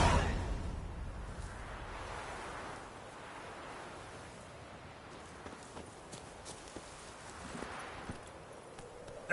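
The horse Roach's hooves clip-clop steadily at a gallop in The Witcher 3, a continuous rhythmic drumming with swishing wind, moderately loud and without talk.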